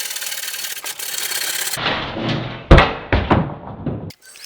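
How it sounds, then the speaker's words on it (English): A wooden wedge worked into a saw cut in a live edge wood slab after cutting with a Japanese saw: a rasping rub followed by a few sharp wooden knocks and thunks, close and loud. "I'm just inserting a wedge here to keep the wood from closing up on the blade"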